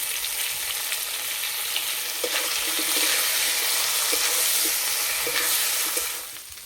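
Potatoes frying with ground spice paste and turmeric in a pan, a steady close sizzle with light stirring scrapes throughout, fading slightly at the end; no one talks.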